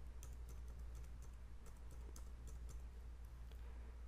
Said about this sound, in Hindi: फिर से एक अकाम नंबर टाइप करेंगे